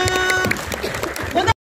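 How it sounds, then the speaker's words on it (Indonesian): Brief applause from the audience at a press conference launching a film soundtrack, a short burst of hand claps mixed with voices, ending abruptly. "Boleh kita kasih tepuk tangan dong"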